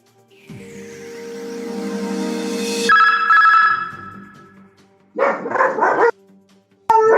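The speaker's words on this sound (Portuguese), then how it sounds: "até o cachorro ficou exaltado." A dog barks in a short, loud burst of several rapid barks after a sustained ringing tone, followed by a sharp final bark.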